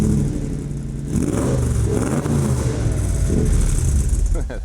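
A replica Shelby 427 Cobra roadster's engine turns over and catches, then revs loudly and steadily up close, with a deep rumble that rises and falls through a few blips. Some voice-like content blends in under the engine noise.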